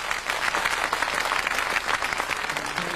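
An audience at a comedy show breaks into dense, continuous applause, loud and sustained across the whole stretch with no talk over it.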